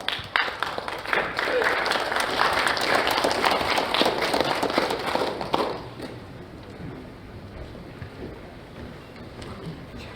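An audience at the founding convention of a bereaved families' association gives strong applause to welcome guests from Geochang, a dense, close roar of clapping for about five seconds that then fades to scattered claps and room noise.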